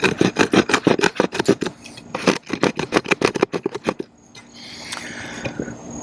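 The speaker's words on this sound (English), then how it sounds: "Let's try the saw blade and see how well it does some sawing" A TOPS SXB Skullcrusher knife's saw-blade spine rasps back and forth through a chunk of freshly split poplar in quick, rhythmic strokes, pausing briefly before a few more short passes.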